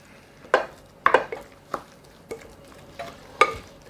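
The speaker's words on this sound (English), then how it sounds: "I'm going to stir that around a little bit" Salmon patty mixture with pepper stirred in a bowl, a series of irregular scraping clinks and knocks of a utensil against the dish, close and moderately loud.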